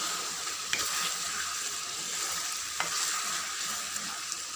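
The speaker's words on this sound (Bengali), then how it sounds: "এদিকে চিকেনটা কষাইতেছি" Chicken sautéing in a pan: a loud, continuous hiss of sizzling up close, with a few sharp clicks of a spatula stirring, and no speech.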